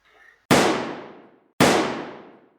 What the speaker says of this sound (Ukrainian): пролунало два постріли із револьвера, який тримав професор